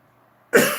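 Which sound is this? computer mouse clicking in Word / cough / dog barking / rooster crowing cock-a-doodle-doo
cough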